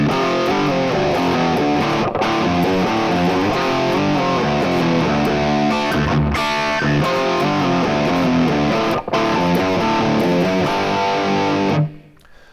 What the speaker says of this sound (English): The main riff sounds like this.